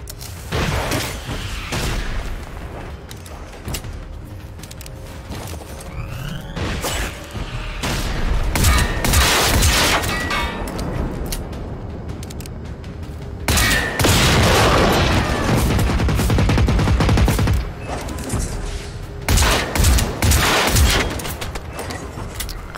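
Gunfire from a newly acquired weapon in the video game Generation Zero, long loud bursts of rapid shots and booming impacts, with busy mechanical clatter between volleys and occasional voices.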